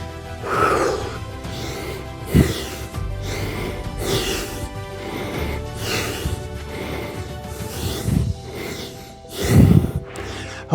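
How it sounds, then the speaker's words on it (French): Heavy, loud breathing during an at-home fat-burning circuit workout, with repeated rhythmic gasps and snorting exhalations about once a second and a louder huff near the end. "Ah, je suis déjà essoufflé, moi"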